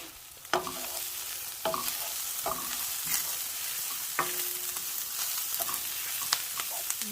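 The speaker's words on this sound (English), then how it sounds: "So now I'm going to add a tablespoon of butter." Butter melting and sizzling with softened onions in a hot pan, a steady frying hiss broken by several sharp clinks and scrapes of a utensil stirring against the pan.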